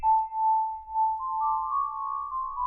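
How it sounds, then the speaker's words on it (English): A soft, airy whistle-like synth tone from the Angelic Whistle preset in FL Studio holds a single high note, then slides up to a slightly higher pitch, faint and sustained with no talking. "some of my favorite presets on this plugin right here are Angelic Whistle"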